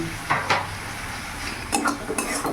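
Spices stirred into an egg poach curry in a pan, a few scraping and clinking strokes of a spoon against the pan with faint sizzling underneath, close and moderately loud.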